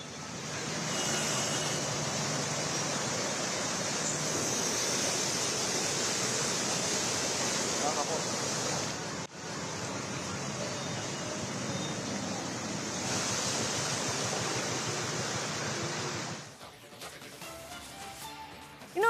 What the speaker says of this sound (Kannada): ಬಿಟ್ಟು ಬಿಡದೆ ಸುರಿತಾ ಇರೋ ಮಳೆಗೆ ಸಾಲು ಸಾಲು ಅವಾಂತರಗಳು ಸೃಷ್ಟಿಯಾಗ್ತಿದೆ